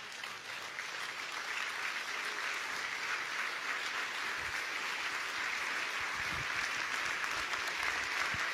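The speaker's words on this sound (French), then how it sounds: "Est-ce que quelqu'un peut m'aider à acclamer les seigneurs?" Congregation at a church service applauding, a steady sustained wash of clapping from many hands that stays even throughout, heard from some distance.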